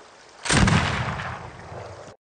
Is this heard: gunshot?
yes